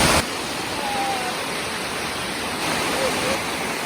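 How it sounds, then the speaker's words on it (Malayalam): Konithodu waterfall, a seasonal stream in Malappuram, gives a continuous broad rushing roar of falling water, loud and steady throughout. "നല്ലൊരു വെള്ളച്ചാട്ടമാണ്"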